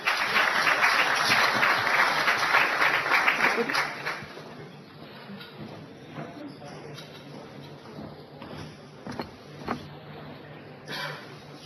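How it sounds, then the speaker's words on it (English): Steady applause from a crowd fills the first few seconds, then fades into scattered claps and murmuring room noise. "Ladies and gentlemen, a big round of applause."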